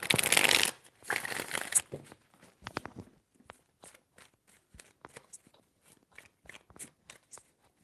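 A deck of tarot cards is shuffled in a loud riffling burst, followed by a run of soft, scattered card clicks and taps as the cards settle.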